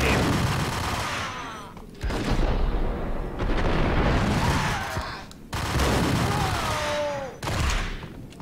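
Sustained automatic Uzi fire from the video game Max Payne, loud, dense bursts broken by short pauses, with booming impacts and no voices.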